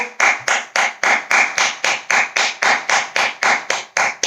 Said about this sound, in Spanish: Os invito a que nos demos un aplauso